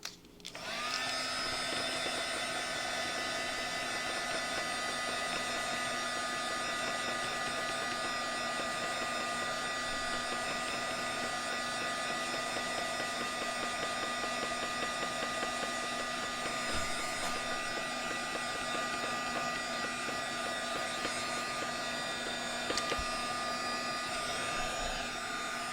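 A hair dryer blows steadily on a painted door tag, a continuous close whine and airflow hiss lasting the whole stretch, alone with no talk.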